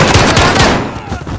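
Rapid bursts of automatic gunfire fill a shooter video game, loud and close, with the rattle fading toward the end and faint voices underneath.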